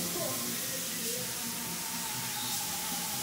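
Constant broad hiss of spray-painting equipment filling a car body shop, with faint tonal hums and murmuring voices in the background.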